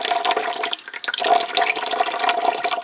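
Water runs steadily from a tap into a bath for a young bearded dragon, a loud continuous gushing and splashing rush that lasts the whole time, close and without any voices.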